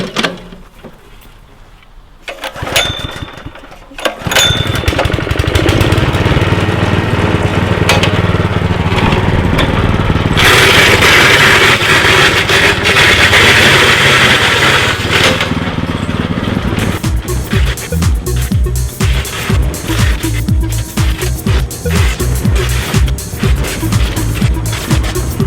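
An engine-powered lawn dethatcher works across a front yard lawn, its loud droning motor kicking in after a few quiet seconds with clicks, then running steadily and close, the pitch shifting as it moves and bites into thatch.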